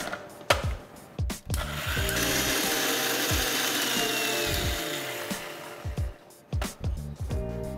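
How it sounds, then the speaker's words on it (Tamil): A mixer grinder whirs loudly and continuously for a few seconds grinding chutney paste, with knocks and clicks from handling before and after. "ஸோ ஓரளவுக்கு அரைச்சிருக்கிறேன்."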